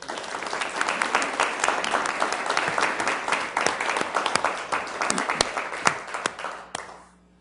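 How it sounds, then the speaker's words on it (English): Dense applause from an audience at a city council meeting, many hands clapping at once, holding steady for several seconds before tapering off and fading out. "if we give her a round of applause, please"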